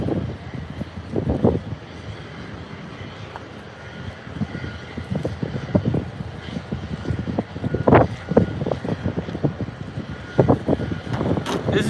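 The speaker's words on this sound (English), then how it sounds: "Sorry about the wind" Gusty wind buffets the microphone outdoors beside a stream, producing loud, irregular low rumbling bursts that rise and fall over a steady background wash.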